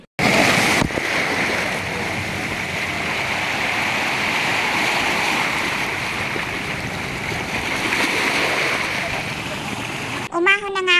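Steady wash of surf on a rocky shore at a beach resort in Burgos, Pangasinan, a continuous broad rushing roar of waves, ending with a brief burst of a high tonal sound.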